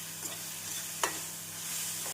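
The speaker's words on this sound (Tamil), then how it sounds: "இஞ்சி பூண்டு விழுது சேர்த்து நன்றாக வதக்க வேண்டும்." Sliced onions and ginger garlic paste sauté in a pan with a steady close sizzle and one sharp scrape of a spoon as they are stirred. The sound stops abruptly at the end.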